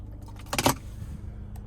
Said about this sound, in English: here's the key fob with remote start